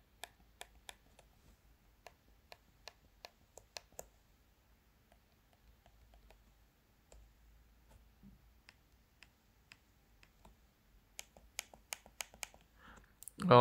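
An ASUS ROG Spatha X gaming mouse gives crisp, quiet button clicks, first in a steady run of single presses, then sparser and irregular, with a louder rustle at the end and no speech.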